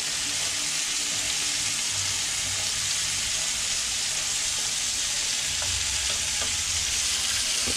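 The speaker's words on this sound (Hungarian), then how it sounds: "Kisütjük a szalonnát" Bacon for spaghetti carbonara sizzles loudly in a pan while being stirred, a dense continuous frying hiss with occasional scraping, close up and without talk.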